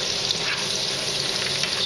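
Butter boiling in a pan for brown butter sauce, a dense, steady crackling sizzle heard close up, with no voices over it.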